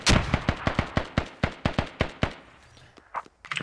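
Gunfire in the Squad video game as a squad engages by fire, a fast run of sharp, close, evenly spaced shots that then thins into a few scattered quieter cracks.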